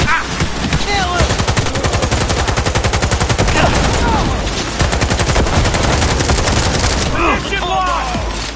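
Rapid automatic gunfire in the video game Cyberpunk, loud and sustained bursts filling the whole stretch with dense, machine-gun-like rattling, with shouted combat callouts mixed in.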